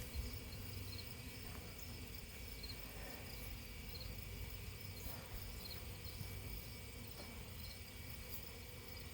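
Honeybees of a freshly shaken swarm, treated for mites the night before, hum in a dense, steady drone that never lets up, with no voices over it.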